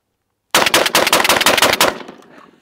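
A shotgun loaded with full-power double aught buckshot fires a rapid string of about eight loud, close blasts in under two seconds, ending in a fading echo.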